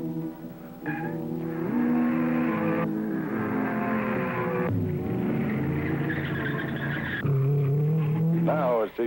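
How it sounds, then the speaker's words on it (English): Sports cars racing up an asphalt hill climb around 1960, engines revving and shifting through gears close by, with tires squealing and a narrator talking over the motor noise. "These sports car drivers painting big stripes of rubber on the asphalt road going to the top."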